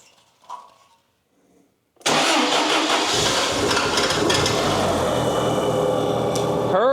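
A propane-fueled Toyota forklift engine cranks after a quiet pause, catches suddenly and settles into a loud, steady idle with a dense mechanical rumble that holds to the end.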